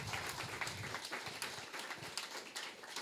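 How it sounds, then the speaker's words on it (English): Audience applause at a songwriter competition qualifier night at the Boones Creek Opry in Johnson City, Tennessee, a steady soft patter of many hands heard from a distance, continuous throughout. "Can we have a round of applause?"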